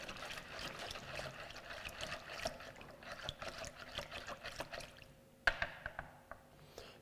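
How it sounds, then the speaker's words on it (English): Melting butter being stirred in a bowl for a chocolate cake, a soft continuous wet scraping and sloshing with small clinks near the end, close and fairly quiet. "bring it out and give it another stir"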